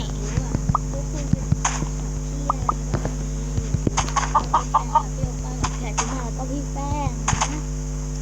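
Chickens in a block-building survival video game cluck and squawk in short repeated bursts over a steady humming music bed, with game sound effects scattered throughout.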